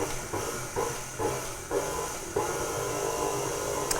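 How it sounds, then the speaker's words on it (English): A stand mixer is pulsed while mixing icing sugar into buttercream. It hums and hisses steadily, with a series of regular surging bursts that grow slightly louder toward the end. "just going to pulse the stand mixer just until that's incorporated in"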